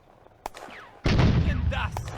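Artillery smoke mission firing in the Firefight video game on the Eastern Front: a sharp distant report, then a loud, sustained rumbling salvo of shell bursts and crackling that rolls on to the end.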